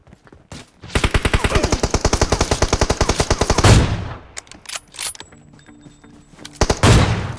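Rapid automatic gunfire in the BGMI battle royale game, a long steady burst of evenly spaced loud shots followed by a few scattered single shots and another short burst at the end.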